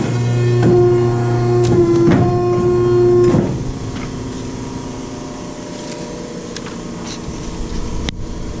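An O&M Multi Cut 10-720E cutting machine runs through a cut with a loud, steady motor whine and strong harmonic hum for about three seconds, then drops to a quieter mechanical rumble with small clicks.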